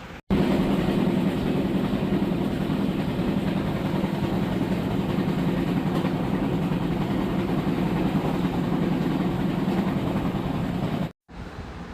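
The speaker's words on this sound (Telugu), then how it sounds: "ఎనీవే ట్రైన్ అయితే వచ్చేసింది" A passenger train rolls into a station after arriving from Mumbai, a loud continuous rumble of wheels and carriages that holds steady and then cuts off briefly near the end.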